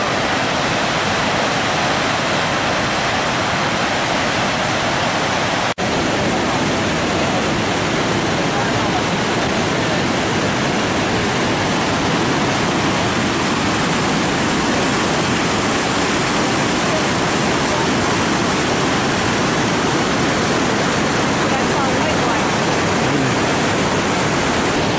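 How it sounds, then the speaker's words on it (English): Gullfoss waterfall in Iceland roars as a loud, steady, close rush of water that fills the whole stretch without a break. "We're in Gullfoss, Iceland. It's a waterfall."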